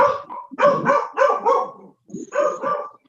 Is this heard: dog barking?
yes